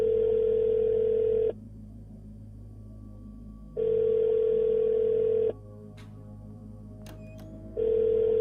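A phone in the detective game Shadows of Doubt sounds a repeating ringback tone, loud pulses of about two seconds separated by longer gaps, with a few faint clicks in between.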